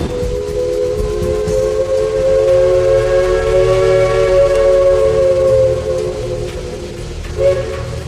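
A loud, steady steam whistle blows with a sustained harmonic tone over a constant hiss, dipping briefly near the end before resuming.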